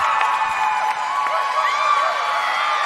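Spectators and teammates at a collegiate gymnastics meet, Limestone versus Coker, cheer in a loud, sustained wall of shouts and high-pitched whoops that holds steady throughout.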